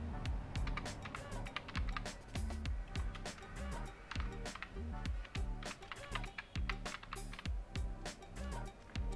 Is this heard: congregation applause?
no